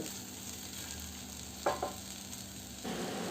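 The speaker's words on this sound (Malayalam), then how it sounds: "നല്ലതുപോലെ ഒന്ന് ഇളക്കി കൊടുത്ത് ഫ്രൈ ചെയ്യാം" Tomato and green chilli masala frying in a pan for beef roast gives a steady sizzle, with two short stirring scrapes midway and the frying growing a little louder near the end.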